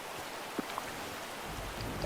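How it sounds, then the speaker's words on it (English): Steady light rainfall in the Disney Dreamlight Valley video game makes a soft, even hiss with a few faint droplet ticks and small chimes over the top. "It's still raining."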